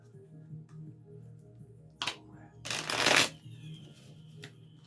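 Tarot cards are shuffled in two quick riffling bursts, the second longer and louder, against a quiet background hum.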